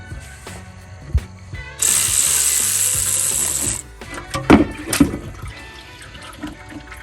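A power tool whirs steadily for about two seconds while removing transmission pan bolts on a 2007 Toyota Tundra with the 4.7L engine. Metallic clanks and rattles follow up close, and there is no speech.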